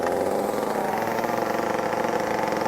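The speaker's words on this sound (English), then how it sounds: "Start your chainsaw" A chainsaw engine runs steadily and loudly with no break, a close buzzing drone at constant speed.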